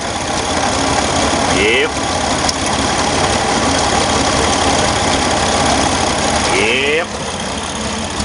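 A Chevrolet Corvair Monza engine idles roughly with a fouled spark plug, burning oil and sputtering in an uneven, lumpy rumble close by, with brief talk over it.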